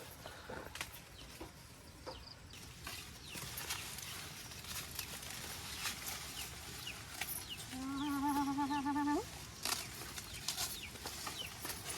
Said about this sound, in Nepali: कुखुरा नि आइराखेर